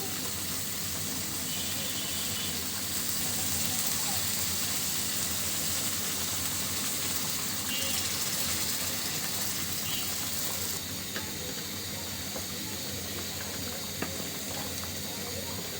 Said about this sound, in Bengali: এখন দিয়ে দিচ্ছি এর ভিতরে ঝোল।